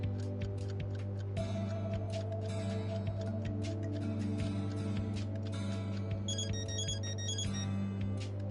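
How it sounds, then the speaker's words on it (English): In the video game Death End Re;Quest, a phone rings with a repeating electronic ringtone, steady and clear over a low hum, with no talking. "A phone call?"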